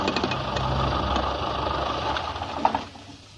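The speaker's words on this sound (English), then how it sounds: "The engine's stopped." A faulty car engine runs roughly with an uneven, rattling idle for a few seconds, then sputters and dies away into quiet, with no talking over it.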